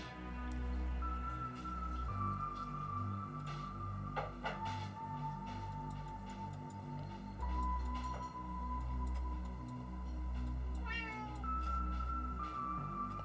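A cat meows a few times, fairly faint, against a steady low hum and soft ticking indoors.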